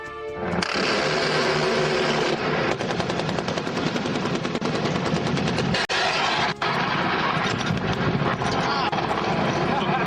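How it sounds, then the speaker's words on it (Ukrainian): A minigun fired from a UH-60 Black Hawk helicopter at night roars in a long, continuous buzzing burst, loud and close, over the steady thrum of the helicopter. "І ось так насипав із Мінігана по ночах."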